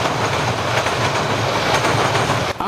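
At full power approaching Otira, the TranzAlpine Express rumbles past loud and close, a dense continuous engine roar with clattering wheels and a brief squeal near the end.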